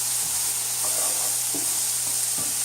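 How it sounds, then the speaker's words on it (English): Food sautéing in a pan on medium heat, a close, steady hiss and sizzle with occasional soft spatula scrapes and a faint low hum in the background. "So I'm going to let this saute."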